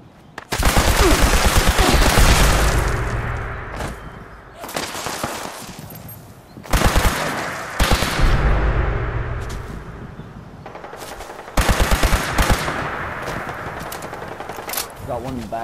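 Gunfire cracks during a Fallout 76 player-versus-player fight, with shots coming from a rooftop. Several loud, dense bursts of automatic fire are separated by brief lulls, and quieter mechanical clicks sound between the volleys.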